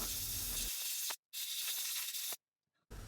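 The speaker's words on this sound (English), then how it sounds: "You can try using compressed air again." Compressed air blasts into an opened game controller in three loud, close bursts of hissing spray separated by short silent gaps.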